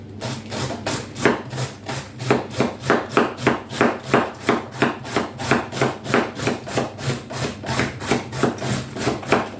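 Cabbage being shredded on a slicer for marinated cabbage makes a steady rhythmic series of close, crisp rasping strokes, repeating about twice a second with no talk.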